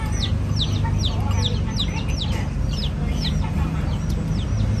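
Chickens cluck in quick, repeated bursts beside a roadside while waiting for food, with a constant low rumble of background noise and no talking.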